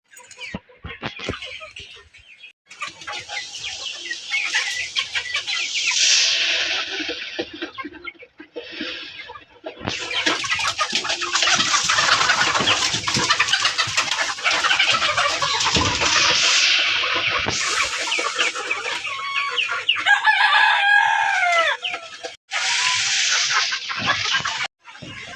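A flock of chickens cluck and chatter loudly and steadily while pecking at feed, a dense close chorus with brief pauses.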